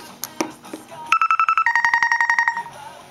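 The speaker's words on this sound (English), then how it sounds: "And here's my ringtone" A phone ringtone plays a quick run of bright, evenly spaced electronic beeps, stepping between two tones, loud and close, after a brief bit of handling noise.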